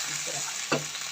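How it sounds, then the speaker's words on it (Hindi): Chicken curry fries in a pan as spices are stirred in, giving a steady close sizzle with a single scrape of a spoon partway through, very brief and without speech. "अब थोड़ा सा मिक्स कर देते हैं इसको"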